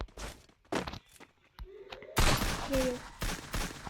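Gunfire from an M500 in the Counter-Strike video game, a few sharp bursts and thuds in quick succession with speech-like sounds between them, fairly loud and close.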